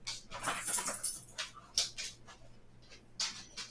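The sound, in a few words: dog whimpering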